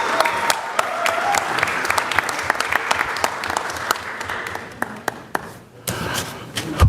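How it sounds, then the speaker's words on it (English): An audience at a school committee meeting applauds youth sports champions and their coaches, steady dense clapping from a room of people with sharp individual claps standing out, close and sustained, easing slightly toward the end. "Let's give them a round of applause, everyone."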